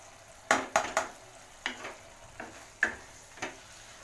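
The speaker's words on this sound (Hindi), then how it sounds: "मसाले को हम बहुत अच्छी तरीके से भून लेंगे।" Whole spices frying in an onion-tomato paste for Punjabi-style rajma masala over low heat, heard as a handful of close spoon scrapes and stirs over a faint, soft sizzle, with no talking.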